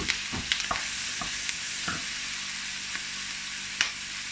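Chopped onion frying and sizzling in a pan, a steady close hiss broken by several sharp scrapes and clacks as it is stirred, no voices over it.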